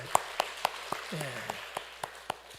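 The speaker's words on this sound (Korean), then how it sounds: "박수 한번 칩시다." A church congregation in Korea claps in a steady, even beat of sharp single claps, about four per second, with a voice briefly heard underneath.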